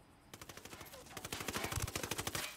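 Rapid automatic gunfire from Ghost Recon: Wildlands: a loud, close burst of evenly spaced shots that quickens into a dense rattling volley and runs for over two seconds.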